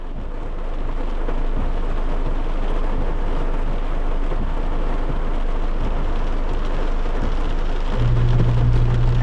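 Steady rain falls continuously during a delivery ride on a stormy day, a dense close hiss with a low rumble underneath, holding at the same level throughout with no talk.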